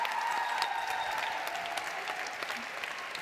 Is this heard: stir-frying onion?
no